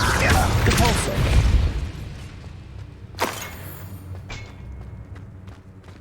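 In the Hogwarts Legacy video game, a burst of rumbling energy fades into a sharp thud as the Depulso spell hits, followed by a lighter impact and a faint ambient hum.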